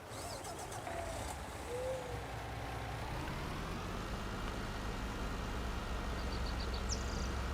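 A truck engine runs steadily at a farm, a low continuous rumble filling the whole stretch at moderate level, with faint higher chirps and tones drifting in the background.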